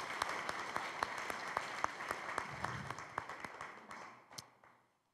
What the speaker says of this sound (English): Let's hear some applause here.